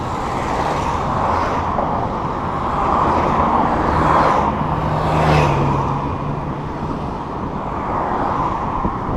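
Steady road traffic noise surrounds a bicycle commute through Nice, with a continuous broad rumble of nearby cars and a brief low engine swell midway, no talking.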